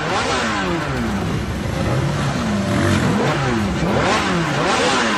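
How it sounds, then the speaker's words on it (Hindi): A motorcycle engine revs hard and accelerates during dangerous stunt riding on a road in Jhansi, loud and close, its pitch sweeping up and down repeatedly as the bike speeds past. "तेजी से ये बाइक दौड़ाता हुआ आया और बाइक को हवा में उठा दिया।"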